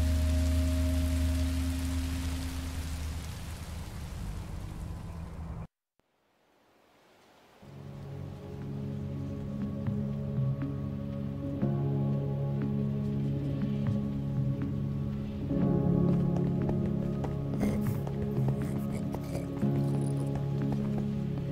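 Steady rain hisses in the Minecraft Story Mode video game. It cuts out briefly, then returns as a soft wash with scattered drips and taps.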